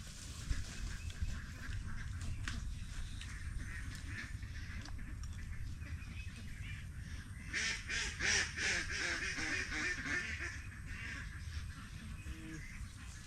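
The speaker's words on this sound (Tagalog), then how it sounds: "Magpapakain po tayo ng ating mga itik." A flock of domestic ducks at feeding time breaks into a burst of rapid quacking midway, fairly faint and a little distant over a steady outdoor hum, then settles back to quieter calls.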